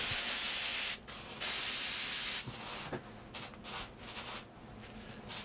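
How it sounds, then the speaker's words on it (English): Sprayable trim glue is sprayed while reinforcing a parcel shelf on a 1980 Triumph TR7, giving a loud steady hissing spray that runs for several seconds in bursts, then gives way to quieter rustling handling sounds. "I'm using again sprayable trim glue"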